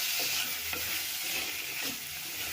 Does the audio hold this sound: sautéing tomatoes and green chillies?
yes